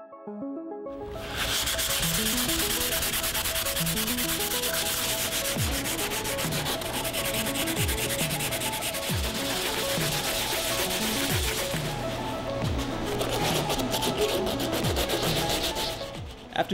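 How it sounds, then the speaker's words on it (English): Body filler on a car dashboard being sanded by hand with 80 grit sandpaper for a DIY rally dash: a steady, close, loud rasping scrub of repeated strokes that runs for the whole stretch with no voices. "After sanding off some of the excess filler with 80 grit sandpaper, it's time to build up another layer of filler."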